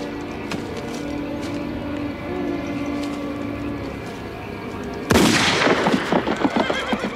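A horse whinnies loudly and close by, a bright shrill burst that breaks over a steady low rumble after several seconds of background noise.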